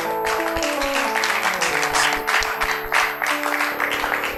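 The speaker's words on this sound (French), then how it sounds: "Ces acclamations, c'était pour t'accueillir" A church congregation applauds and cheers to welcome new believers, with sustained clapping over a backdrop of held musical tones.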